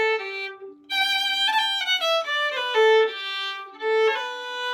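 A fiddle plays a short Irish tune phrase with a quick second finger trill ornament fluttering between notes, heard alone and close.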